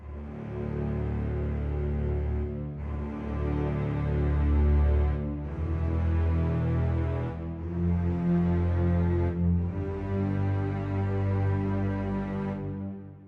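A slow, sustained Albion ONE string patch plays low, warm chords that swell and shift every few seconds, steady and full with no voices.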